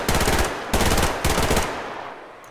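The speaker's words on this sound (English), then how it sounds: "You actually have to shoot quite a lot at somebody." Automatic gunfire in the video game Survarium, three loud close bursts of rapid shots, each cut off sharply, the last trailing away.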